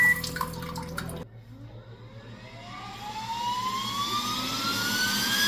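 Earlier sound cuts off abruptly, then the warm-air dryer of an iCleaningo DC02 bidet seat starts up, a close fan whir whose whine climbs steadily in pitch as it spins up and keeps blowing.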